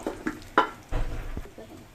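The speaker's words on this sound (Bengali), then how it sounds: "এখন পেঁয়াজ আর মরিচ দিচ্ছি ভাজতে" Onions and chilies go into a hot pan to fry, with a few sharp clinks and stirring scrapes followed by a rising sizzle, close and moderately loud, with no talking.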